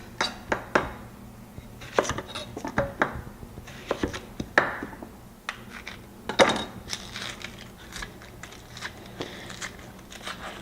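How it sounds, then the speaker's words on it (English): A Cuisinart food processor rough-chops fresh salsa vegetables such as onion and tomato for game day nachos, giving irregular close clattering bursts and crackly blade chatter that come and go across the stretch, with no talk. "really with the Cuisinart, you can just put everything in there, nice rough chop"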